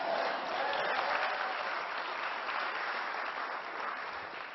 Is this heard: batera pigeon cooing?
no